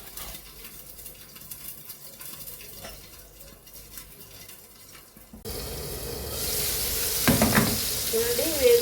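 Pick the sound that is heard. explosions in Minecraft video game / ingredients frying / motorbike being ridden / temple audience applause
ingredients frying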